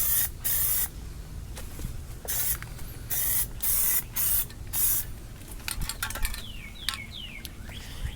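Plasti Dip coating is sprayed from an aerosol can onto car interior parts. A series of short, sharp hissing bursts, each about half a second long, is separated by brief pauses, and faint rattling and clicks follow near the end.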